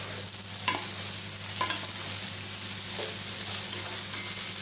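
Onion and garlic fried rice being stir-fried in a pan, a steady close sizzle with a few scraping stirs of the spatula cutting through at intervals, no voices.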